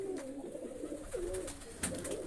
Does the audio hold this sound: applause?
no